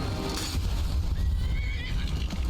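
Horse neighing in Skyrim, a loud, drawn-out whinny heard over a steady low rumble of game sound with no talk, close and prominent throughout.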